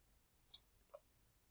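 Two crisp computer mouse clicks, about 0.4 seconds apart, sound close and distinct against a quiet room.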